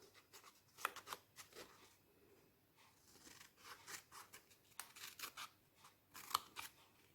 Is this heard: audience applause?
no